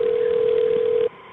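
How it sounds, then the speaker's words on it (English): A steady single telephone line tone sounds loud and clear for about a second while a call is connected to an ambulance service, then cuts to quiet line hiss. "let me connect you with the ambulance service"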